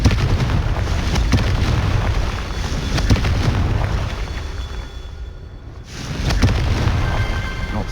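Confringo spell blasts in the wizarding game Hogwarts Legacy: loud, rumbling bursts with a steady roaring wash underneath, dipping briefly before another booming surge.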